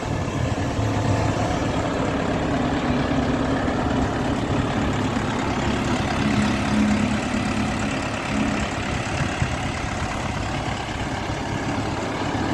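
An Orion RD 404 mini tractor engine runs steadily throughout, a continuous low chugging drone with no break or change in pace, fairly close.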